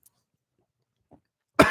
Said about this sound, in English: cough it into the mic, please